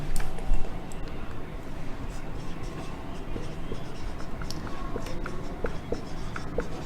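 A marker or chalk scratches steadily across a board during a biology class, the faint scraping strokes continuing under a teacher's voice in a small room.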